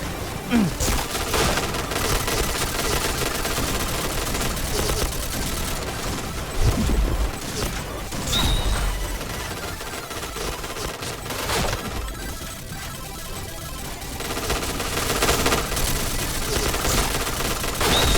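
SCAR rifle fire in the shooter game Point Blank, heard as dense bursts of rapid shots with booms and crashes, continuing through the clip while a player talks over it.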